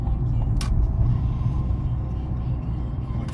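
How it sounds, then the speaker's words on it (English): A car pulls away in second gear after a roundabout, its engine giving a steady low rumble with road noise throughout the short stretch and one brief higher click partway through. "blocked it into gear 2, and we're driving the car away"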